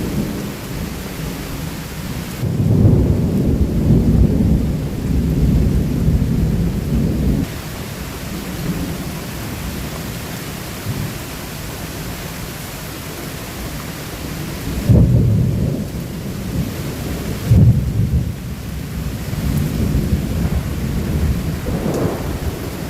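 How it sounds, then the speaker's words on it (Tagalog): Heavy rain pours steadily while deep thunder rolls and cracks several times, loud and close, with wind and lightning, with no talking. "Grabe kakusog sa dalugdog"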